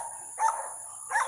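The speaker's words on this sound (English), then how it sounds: "Sorry, y'all, these puppies are getting on my nerve." Puppies yipping in a Mississippi garden, two short high barks spaced about a second apart, faint and thin over a quiet background.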